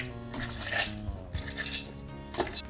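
Soaked ingredients and dried red chillies tipped into a mixer jar for a no-urad-dal, no-fermentation dosa batter, landing as a few close clattering, rattling drops against the jar.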